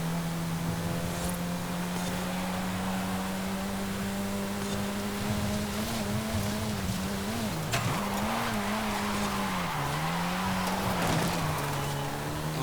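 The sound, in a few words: Saleen S1 drifting with tire squeal in video game Forza Horizon 5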